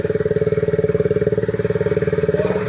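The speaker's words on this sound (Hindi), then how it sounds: "जब आप इसे स्टार्ट करेंगे तो इसका कैसा इसका साउंड रहेगा" A Honda CB 350 motorcycle idles close by, a steady rhythmic thumping single-cylinder beat with even pulses, loud and alone, rising slightly at the very end.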